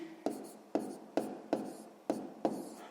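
Numbers are written by hand, with six crisp, evenly spaced strokes or taps, each fading quickly, close and fairly quiet, with no voices.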